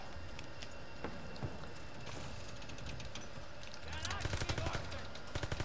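Gunfire from the Call of Duty WWII campaign crackles in quick bursts under low game ambience, growing into denser rapid shots toward the end, with a voice talking faintly.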